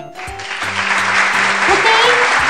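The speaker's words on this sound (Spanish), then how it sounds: "me gustan los aplausos" Applause and cheering from a small group fill the scene in a home children's craft session, a dense, steady patter of clapping that starts abruptly and holds loud throughout with a few voices mixed in.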